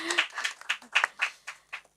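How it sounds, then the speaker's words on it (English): Applause from a small audience at a film press conference during a festival, heard as a brief run of scattered, fairly close hand claps at an uneven pace over two seconds. "Can we all have a clap?"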